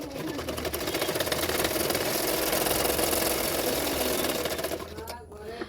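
A sewing machine runs in one steady, loud whirring burst for about five seconds while stitching a 36-size katori blouse, then stops abruptly.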